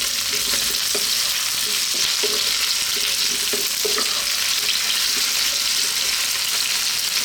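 Fresh curry leaves crackle and sizzle in a hot pan with potatoes for a potato mushroom curry, giving a loud, steady frying hiss with scattered small pops and no talking.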